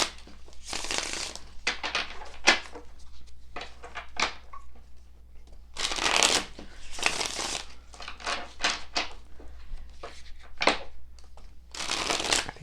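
A Radiant Rider Waite tarot deck is shuffled by hand in repeated riffling bursts, crisp papery flutters close to the listener, broken by brief quiet gaps and a few soft taps.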